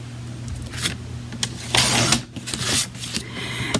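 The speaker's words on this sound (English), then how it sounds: "Now this one, I'm going to cut 5 1/4." Paper being cut to size for a craft card with a sailing theme, producing several short crisp slicing bursts and a longer rasping cut in the middle, close by over a steady low hum.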